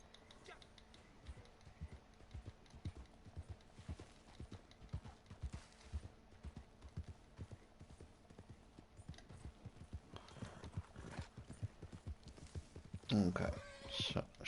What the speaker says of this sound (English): Look at you. Big brave horse.